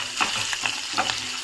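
Thinly sliced onions and curry leaves frying in a pan with urad dal for a caterer-style drumstick masala: a steady close sizzle with brief crackles and stirring scrapes.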